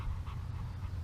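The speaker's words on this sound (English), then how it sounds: "There's a happy dog right there." A happy dog, a female in bitework training, panting in quick steady breaths close by, continuous through the short moment with no talking.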